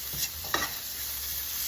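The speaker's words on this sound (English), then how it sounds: "Our onions are softened up nicely, and now in comes a fair amount of garlic." Garlic goes into softened onions cooking in a pan for beef farfalle alla vodka, raising a steady, quiet sizzle with a couple of brief stirring scrapes near the start.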